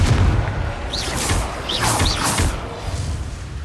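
Confringo blasting spell in Hogwarts Legacy on PS5, a loud booming explosion with crackling burst and rumbling impact, dense and sustained with low rumble over several seconds amid game effects.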